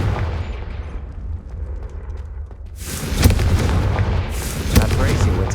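A Confringo spell blast in the game Hogwarts Legacy, a loud explosive burst that bursts in midway and keeps rumbling with crackling debris, following a quieter stretch of game ambience.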